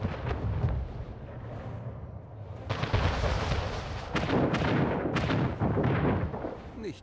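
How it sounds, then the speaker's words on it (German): Cannon fire hitting a ship in the video game Anno 1800, heavy booming blasts and rumbling explosions that build and repeat in a dense barrage, loud and close, with some faint speech mixed in. "Die Waffenruhe wurde beendet. Schiff unter Beschuss."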